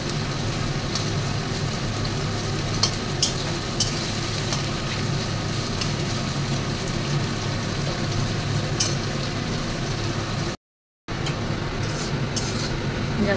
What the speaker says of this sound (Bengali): শুধু একটুখানি ভেজে নেবো পেঁয়াজটা